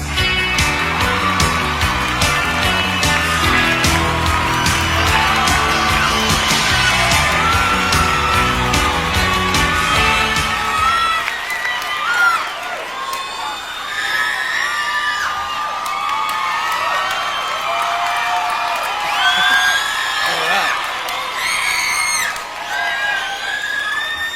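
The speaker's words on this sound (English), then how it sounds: "Thank God there's still screaming girls." A large awards-show audience at the 1993 VMAs, girls prominent, screams and cheers loudly and continuously, at first under loud music, then as a sustained roar of whoops and shrieks.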